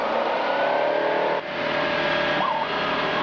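Engine of a light aircraft on the Clacton to Boulogne route held at a steady 4,600 rpm before takeoff, a loud continuous drone with a brief dip midway and a small rising whine near the end.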